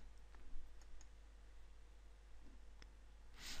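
Mouse clicks in a Joomla 1.7/1.6 admin panel: a few faint, sparse clicks scattered over a quiet hiss, with a brighter click-like burst at the very end.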